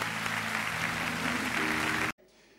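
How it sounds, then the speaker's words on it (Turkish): Studio audience applause at a Turkish TV talk show, a dense, loud burst of clapping for about two seconds that cuts off abruptly into quiet room tone. "Alkışlar Kötü Yol ekibi için."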